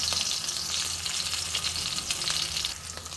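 Cumin seeds and fresh green and red chilies sizzle steadily in hot oil for a Bengali tempering, a dense, continuous crackle close by with no talk.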